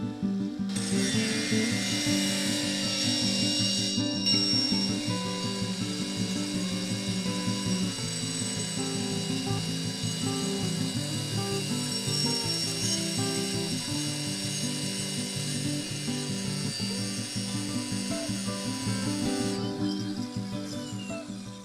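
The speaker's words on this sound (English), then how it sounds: "I'm going to see how each of these grinders do just grinding down this 1/4 inch steel" A Bauer 2161CR-B brushless angle grinder grinds down 1/4 inch steel, its high motor whine and harsh abrasive rasp running loud and continuous for about twenty seconds with slight shifts under load.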